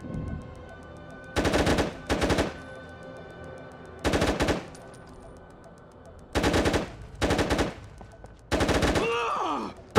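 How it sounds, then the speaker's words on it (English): Gunfire in the video game SOCOM U.S. Navy SEALs 3: loud bursts of automatic fire come in short clusters with pauses between them, over a steady game background hum. "Bro, you're shooting me, man!"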